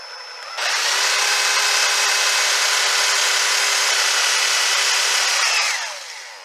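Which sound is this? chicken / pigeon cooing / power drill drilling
power drill drilling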